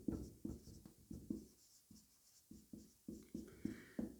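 Chalk or marker strokes on a classroom board by hand, a series of short scratchy taps and scrapes in an uneven rhythm, close and fairly quiet with no talking.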